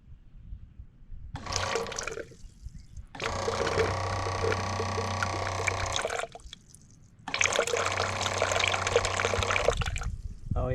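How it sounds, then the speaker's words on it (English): A pump on a methanol injection setup primes with a motorized whirring buzz and rushing liquid in two long bursts, each several seconds, with short pauses between, close and fairly loud, with no talking. "I want to prime this pump, make sure everything works"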